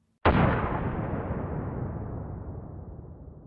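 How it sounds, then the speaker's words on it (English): A single sudden explosion, a grenade blast in an audio drama, bursts loud and close, then decays into a long, fading rumble. "he is engulfed in an explosion."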